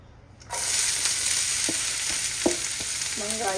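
Steady sizzling of onion frying in hot oil, tempering for biryani, starts abruptly and continues, with a few soft scrapes of stirring.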